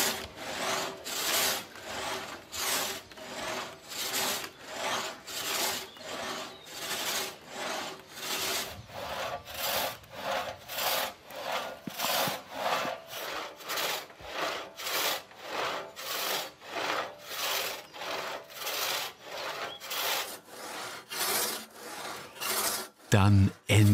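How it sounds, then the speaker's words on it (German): Craftsmen hand-saw a tree trunk lengthwise into boards with a traditional saw, producing a steady, rhythmic rasp of wood strokes that repeats close up for the whole stretch with no talking. "je länger das Sägen dauert, desto beschwerlicher wird es für die Handwerker."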